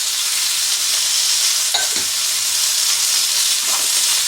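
A close, even hiss of noodles frying in a pan for Thai-style chicken curry noodles, with a couple of soft scrapes or taps against the pan partway through.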